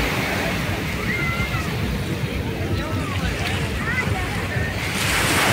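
Waves break on JBR Beach in Dubai, a continuous roar of surf with wind buffeting the microphone, loud and steady throughout, with people talking faintly in the background.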